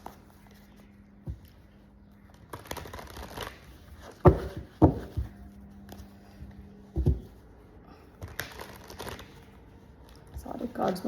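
Tarot cards shuffled by hand in several brief rustling, riffling bursts, close and moderately loud, with quiet gaps between and a low steady hum underneath; no talking.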